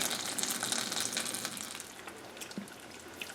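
Melted butter for toffee bubbles in a pan, a steady soft sizzling hiss with faint popping, close and moderately quiet, no voices.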